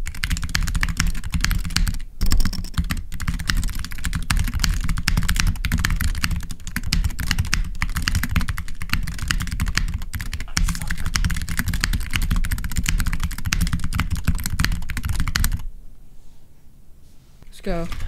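Rapid, steady typing on a Tofu60 Redux mechanical keyboard, dense close-up clacks of keys and spacebar thocks running continuously for about fifteen seconds before stopping abruptly, with no talk over it.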